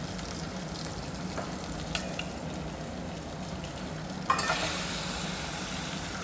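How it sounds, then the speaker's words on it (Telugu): Chicken sizzling and frying in ginger-garlic paste for a country-chicken curry, a steady close hiss with occasional stirring scrapes and a louder burst of sizzle near the end. "ఇది బాగా వేగిన తర్వాత చికెన్ అనేది మనం ఇందులోనే వేయాలండి"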